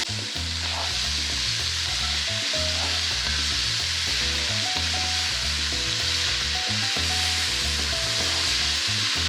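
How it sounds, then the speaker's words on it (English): Red beans sizzle and fry in a cooking pot along with thyme and seasonings, giving a steady close crackle with stirring and scraping all the way through. "And then into the pot go our lovely beans."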